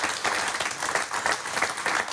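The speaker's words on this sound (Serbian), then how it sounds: "Zato što je to aplauz podrške." A studio audience claps steadily and loudly, a dense wash of applause with slight swells, and no voices stand out.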